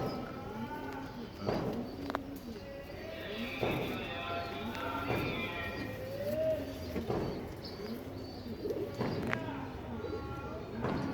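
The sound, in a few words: black dumbaju pigeons cooing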